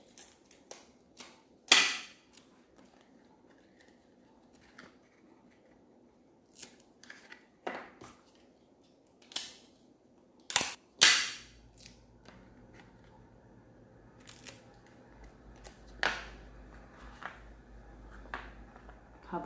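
Sharp, scattered crackles and rips of adhesive tape being torn and pressed onto paper in a children's craft class, coming in irregular bursts with quiet gaps between, close by.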